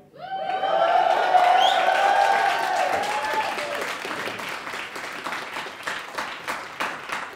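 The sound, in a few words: comedy audience whooping and cheering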